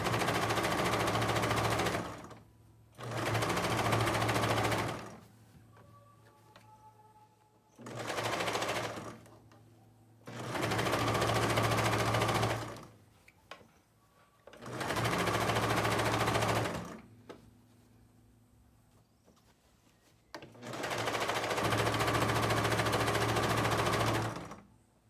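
Sewing machine stitching the middle of a fabric bathroom set, running in five bursts of a few seconds each with quiet pauses between, close and loud.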